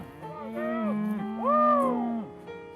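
Angus cattle on a farm give two drawn-out moos, the second louder and longer, fairly close and clear with no talk over them.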